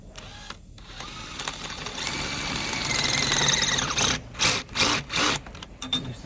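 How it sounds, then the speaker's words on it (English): A blunt drill bit grinds into a snapped bolt, a steady whining screech building over several seconds before breaking into short, uneven bursts as the bit catches and stops, close and fairly loud with no talking. "It's the sound of a blunt drill bit."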